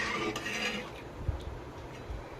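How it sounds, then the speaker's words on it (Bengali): Spoon scraping and knocking in a pot of rice milk pudding as it is stirred steadily during cooking, soft clinks and scrapes with a few sharper taps, close and fairly quiet, no talking. "এইভাবে আমি অনবরত নেড়ে নিচ্ছি"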